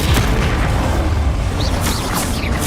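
A loud, rumbling magical blast from the Confringo spell in Hogwarts Legacy, a dense sustained boom filling the whole moment with crackling debris and faint high whooshes on top.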